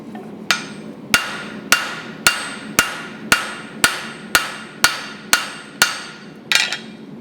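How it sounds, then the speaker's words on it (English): A flat hammer strikes hot metal in a steady, evenly spaced series of about eleven sharp ringing blows, close up, with no talking, while forging a leaf. "And then use your flat hammer"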